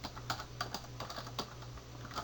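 Quick keystrokes on a computer keyboard as a web address is entered into a browser's address bar, a short run of light, close clicks with uneven spacing.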